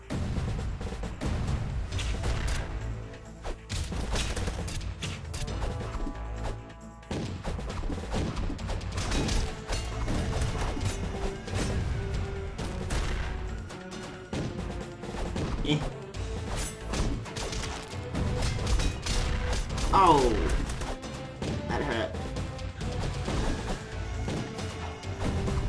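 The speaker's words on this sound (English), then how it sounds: "And this time, get out of the way of the bombs." Bombs blasting in the side-scrolling brawler game Castle Crashers, loud crashing hits and bursts repeating through dense, busy game music and effects, with players talking over the action.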